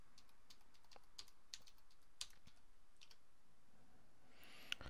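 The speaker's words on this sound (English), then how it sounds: "So if you press Control Alt Insert like that, this is what you would see" Keys pressed on a computer keyboard, including the Control, Alt and Insert combination, make sparse, faint plastic clicks spread irregularly across a quiet room, with no voices.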